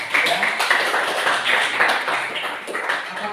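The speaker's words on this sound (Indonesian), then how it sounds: "Kita beri tepuk tangan untuk ya." A classroom group bursts into applause, a dense burst of close hand clapping from many people that carries on steadily for several seconds.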